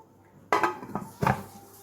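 A pot set down on a kitchen stove and closed with its lid while making an eggless semolina rava cake without an oven, giving two or three close metallic clanks and knocks with quiet pauses between them.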